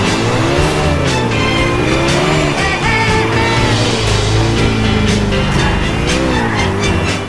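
Cars race in Grand Theft Auto IV, engines roaring loudly with rising and falling revs and tires squealing, a dense continuous racing din throughout.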